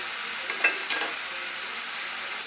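Spices stirred into bitter gourd in a pan, with red chilli powder, salt and crushed peanuts going in; a steady hiss of cooking with two soft scraping strokes near the start, no talk.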